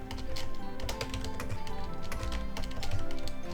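Rapid keystrokes on a computer keyboard, a close, continuous clatter of taps over a low background hum, with no speech.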